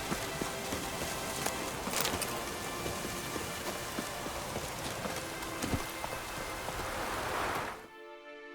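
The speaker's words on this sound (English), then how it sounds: "Looks like rain." Rain falls in the video game The Witcher 3, a steady hiss of drops with occasional hoof clops beneath it, cutting off abruptly near the end.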